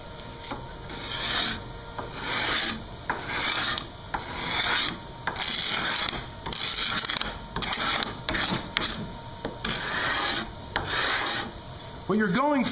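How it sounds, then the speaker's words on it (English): A hand scraper works across a clamped wooden guitar neck to clear off excess glue, giving rhythmic, raspy strokes in close, repeated passes with short pauses between them. "So I'll just clamp this down, and we'll do a little bit of scraping as a demonstration."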